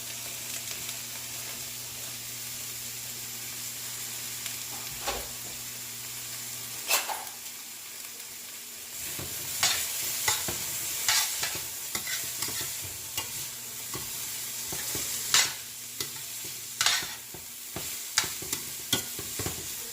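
Thyme sprigs and garlic sizzle and fry in a hot pot, a steady low crackle broken by a run of scraping, knocking stirs against the pot that grows busier and louder toward the end.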